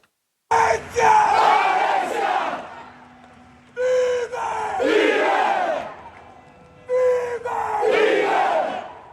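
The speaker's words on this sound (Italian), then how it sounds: "Alessia vive, è il coro dei tifosi del Palermo che hanno accompagnato la piccola verso il suo ultimo viaggio." Palermo football supporters chant in unison at a child's funeral, loud massed voices in three long surging bursts separated by brief pauses.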